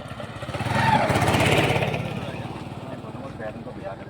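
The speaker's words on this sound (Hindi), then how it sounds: "इस बाइक ने और निकलन दो एक बार।" Motorcycle engine running close by during an outdoor Haryanvi song shoot, a throbbing mid-pitched rumble that swells and then settles into a steady idle, with people talking over it.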